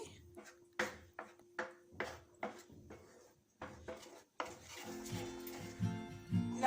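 Coconut milk burfi mixture, made without oil, sugar or ghee, stirred in a pan, a series of rhythmic scraping strokes that give way to a thicker, steadier churning and bubbling sound.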